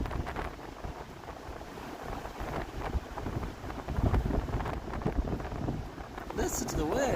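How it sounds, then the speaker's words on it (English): Blizzard wind in Iowa winter snow roars and buffets the microphone in a loud, continuous rush that never lets up. "Listen to the wind."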